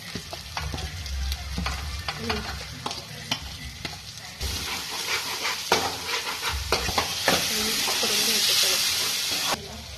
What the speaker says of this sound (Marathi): वरती तेल आलं की मग मसाले टाकून घ्यायचे. धने पावडर,